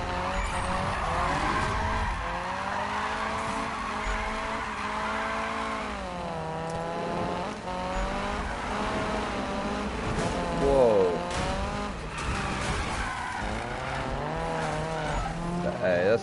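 A Ferrari's tires squeal and skid in long, wavering screeches as the car slides and revs, loud and close, with brief bursts of engine noise between the squeals.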